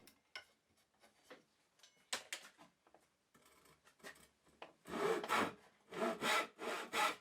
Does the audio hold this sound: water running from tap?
no